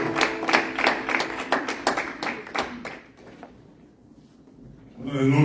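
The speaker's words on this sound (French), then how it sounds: "Applaudissons pour les rois des rois de l'esprit de Dieu." A church congregation claps together at a worship service, brisk and even, for about three seconds before the clapping thins out and a voice rises at the end.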